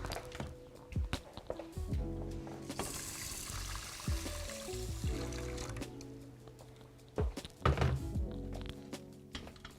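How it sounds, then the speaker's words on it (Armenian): Hot water is poured from a vessel onto one cup of rice in a pot, giving a close, splashing, filling sound with a few hard thunks of cookware. "այստեղ ունեմ 1 բաժակ բրինձ, այստեղ կավելացնեմ երման ջուր"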